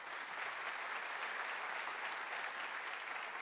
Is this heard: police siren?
no